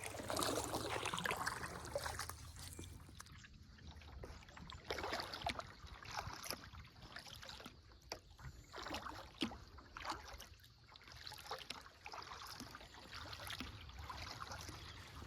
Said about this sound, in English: It's a nice morning to paddle anyway.